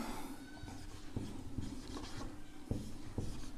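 Pen writing by hand on paper during a geometry lesson, a soft close scratching with small taps and strokes, quiet and alone.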